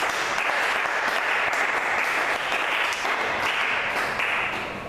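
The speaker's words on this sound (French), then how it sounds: "Est-ce que quelqu'un peut acclamer pour la parole du Seigneur?" A church congregation applauds during a teaching service, a dense, steady wash of clapping from many hands that fades slightly at the end.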